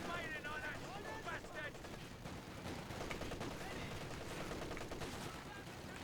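Machine gun fire and battle noise in Company of Heroes 2 on the 4v4 Vielsalm map, with rapid bursts and distant explosions layered under a faint commentator's voice.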